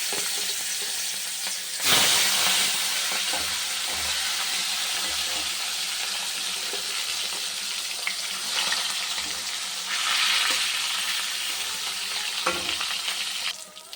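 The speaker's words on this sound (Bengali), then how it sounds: "এবার তেলটা গরম হয়ে গেছে, মাছটা দিয়ে দিলাম।" Fish hits hot oil in a pan and fries with a loud, steady hissing sizzle that surges as the pieces go in and keeps crackling close by throughout.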